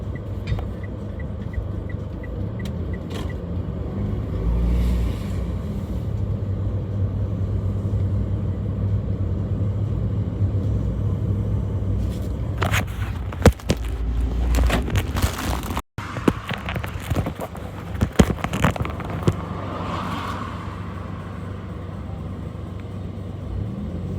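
Heavy road traffic keeps up a low, continuous rumble of many passing vehicles, with close crinkling and handling knocks breaking in through the middle stretch before the steady drone settles again.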